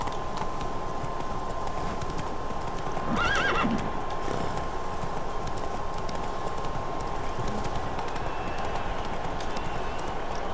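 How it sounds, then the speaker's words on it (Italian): A horse in The Witcher 3 galloping with steady rhythmic hoofbeats under an ambient game bed, joined partway through by one short whinnying neigh. "Cavallo."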